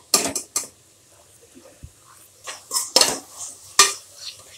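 Onions and tomatoes are sautéed in a pan over a full flame for mushroom biryani: a few sharp spatula scrapes and clinks against the pan, separated by quiet gaps, with only a faint sizzle underneath.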